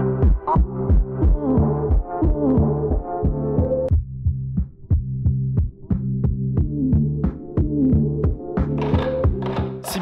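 A food processor blends avocado, coconut oil and dates, its motor humming loud and close in repeated throbbing pulses that briefly dip and restart.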